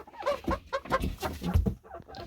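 Hens clucking nearby in short, choppy bursts, several birds overlapping in a busy, continuous stretch.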